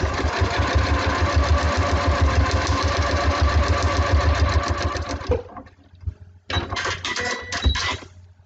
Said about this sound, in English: I've just sewn along the line between the little stack and number 6.